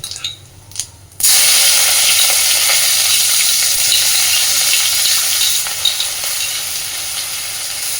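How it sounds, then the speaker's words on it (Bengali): Grated onion and garlic go into hot oil already tempered with dried chili and whole cumin, giving a sudden loud sizzle that continues as a steady close frying hiss after a brief quieter moment. "এই তেলে এবার আমি ফোড়নে দিচ্ছি একটা শুকনো লঙ্কা, সামান্য একটু আস্ত জিরে, এবার দিয়ে দিচ্ছি গ্রেট করে রাখা পেঁয়াজ আর রসুন।"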